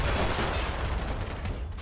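A loud, dense burst of rifle and machine-gun fire from a ridge line in a World War II war game, with Afrika Korps troops attacking an Australian trench line, lasting under two seconds.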